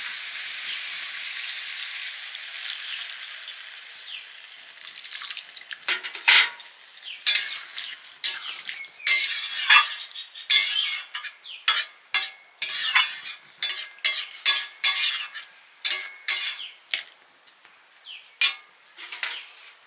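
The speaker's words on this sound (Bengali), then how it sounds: "পোস্তটা দিয়ে নেড়ে নিয়েছি" Poppy seed paste stirred in a cooking pan for aloo posto, with a steady hiss of frying and a run of irregular scraping and clinking spoon strokes against the pan, close up with no talk.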